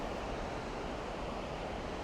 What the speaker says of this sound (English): you can actually go down and walk pretty close to the waterfall